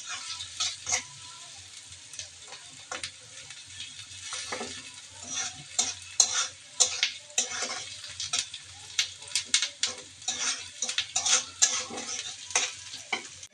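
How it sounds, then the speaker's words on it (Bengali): Spice paste with ginger paste and onion is sautéed in a pan, a soft frying hiss punctuated by frequent scraping strokes of a spoon, irregular and close. "এখন মশলাটা কষিয়ে নিচ্ছি।"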